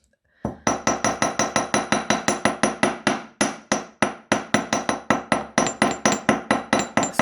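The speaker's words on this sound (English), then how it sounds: "I'm just going to hammer the back of this loop" A large-faced hammer strikes a wire jewellery hook laid on a steel block, in a rapid, steady run of about thirty crisp metallic blows, close and loud, with no talking.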